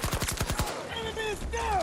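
Gunfire in the shooter game Battlefield 2042, with rapid automatic bursts followed by sustained battle sounds and fainter shots, loud and dense throughout.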